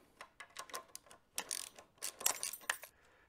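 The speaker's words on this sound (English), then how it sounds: "I'm going to use a socket with a half inch to tighten it up" A socket ratchet tightens half-inch bolts on a Harley-Davidson EVO engine during reassembly, giving quiet bursts of clicking and metallic clinks in an irregular rhythm, close by with no voices.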